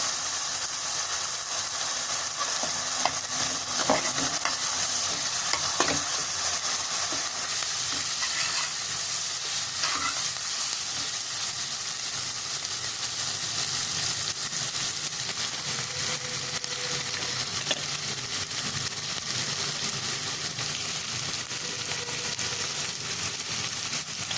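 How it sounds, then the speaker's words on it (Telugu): Chopped onions fry in a pan for a spicy potato fry, a steady loud sizzle and hiss with occasional stirring scrapes, no voices. "ఇప్పుడు కట్ చేసి పెట్టుకున్న ఆనియన్ ముక్కలు వేసుకోవాలి."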